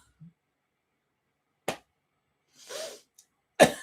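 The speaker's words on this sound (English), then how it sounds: "I'm going to cough." A few short, sharp coughs sound close by against near silence, with a brief rough throat noise in between.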